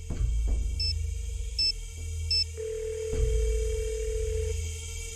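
A telephone in a Nancy Drew video game sounds a few short beeps and then a steady dial tone for about a second and a half over low background hum, with no talk.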